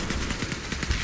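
Rapid bursts of gunfire from the VR shooter game Aim XR, with several quick, sharp cracks in a fast, uneven rhythm, loud and close.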